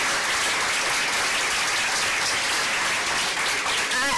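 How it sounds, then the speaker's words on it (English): An audience applauds steadily and densely throughout, a continuous wash of many hands clapping in a large room, loud and unbroken with no talking on top. "So let's give her a round of applause."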